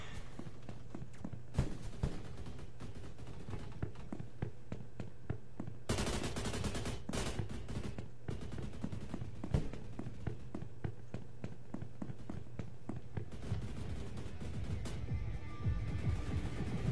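Rapid gunfire from a free-for-all gun game round in the Roblox shooter Energy Assault, dense bursts of shots crackling continuously at close range with brief pauses, no talking over it.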